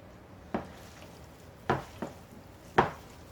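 Beef jerky strips being mixed with seasoning by hand, giving three sharp, separate wet slaps and squishes spaced about a second apart, close and fairly loud, with a soft background hiss between them.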